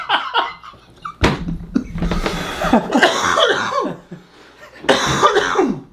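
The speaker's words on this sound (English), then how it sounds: "2 camera coughs for anyone counting" Several harsh coughs close to the microphone at a podcast recording, coming in separate bursts with short quiet gaps between them, no speech.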